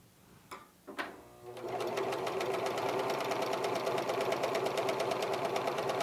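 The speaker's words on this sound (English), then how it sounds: "now we'll go ahead and stitch" A Bernina 1300MDC sewing machine set up for coverstitch: a couple of clicks, then a close, steady, fast rhythmic stitching hum that runs to the end.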